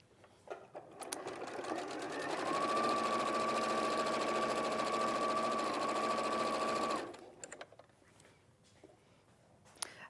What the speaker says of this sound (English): it works nicely under the sewing machine